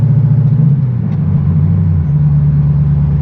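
Chevrolet Corvette C6 climbing a mountain road in sixth gear, a low steady engine rumble that drops in pitch as the gear changes, then settles into a constant loud drone.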